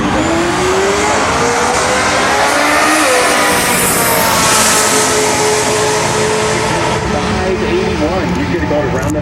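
Turbo LS-powered drag cars race down an eighth-mile heads-up Pro Mod strip, engines roaring loudly and rising in pitch with tire noise across a continuous pass, while a commentator talks over the din.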